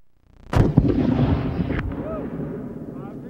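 A single cannon shot booms out at an N-SSA cannon competition, a sharp loud blast followed by a rolling echo that fades over a few seconds. Faint voices sit beneath the decay.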